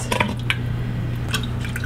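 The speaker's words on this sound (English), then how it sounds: "I've put about 1/4 cup of water in there just to rinse the goodness out of that jar." About a quarter cup of water poured into a jar of stewed tomatoes to rinse it: steady close trickling with a few distinct drips over a constant background hum.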